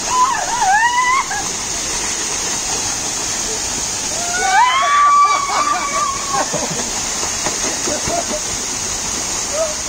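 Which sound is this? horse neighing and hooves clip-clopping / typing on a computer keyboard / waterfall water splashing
waterfall water splashing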